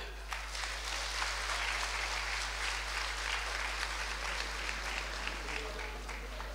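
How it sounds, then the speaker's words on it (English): An audience claps together at a public ceremony honoring the State President, a steady, even patter of many hands heard fairly faint and distant over a constant low hum. "I just want us to put our hands together and clap for His Excellency the State President"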